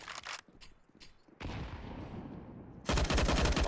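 Rapid video-game gunfire from a silenced M4 in a competitive shooter match comes in bursts of muffled shots, with a louder, denser volley toward the end.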